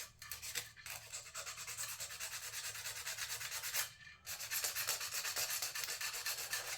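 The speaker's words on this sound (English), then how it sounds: "I've got some 120 grit sandpaper here, and let's see what it does to this surface." 120 grit sandpaper scrubbed back and forth over the coated surface of a titanium knife, close, rhythmic rasping strokes that pause briefly twice.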